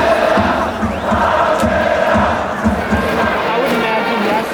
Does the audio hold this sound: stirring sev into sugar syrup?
no